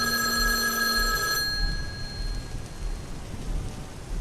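A telephone rings with a bright electronic tone that holds for about a second and a half, then fades away, while steady rain patters underneath throughout.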